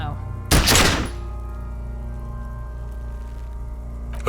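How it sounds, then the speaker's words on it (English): A single pistol gunshot in the Disco Elysium video game, one sharp, loud blast that decays quickly into a steady low musical drone. "A plume of smoke erupts from the barrel. Your hand goes numb from the explosion."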